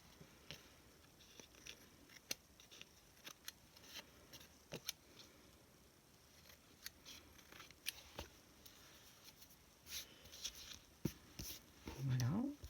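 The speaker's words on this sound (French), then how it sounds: "Donc là, je coupe ce qui dépasse encore une fois" Scissors snipping away excess thin craft material, a series of faint, close, scattered cuts over a quiet background, with a brief soft vocal sound near the end.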